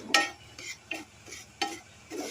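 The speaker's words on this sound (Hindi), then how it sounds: "सूजी हमें तब तक भूनना है जब तक इसका कच्चापन निकल न जाए और अच्छी सी खुशबू आने लगे" Semolina roasting in a pan, stirred with a spoon in several separate scraping strokes over a faint background sizzle, close and fairly quiet.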